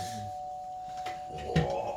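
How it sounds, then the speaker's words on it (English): A doorbell rings in a home, a clear tone at about 1.5 seconds with faint sustained hum and room noise around it, no talk. "Oh, lovely doorbell."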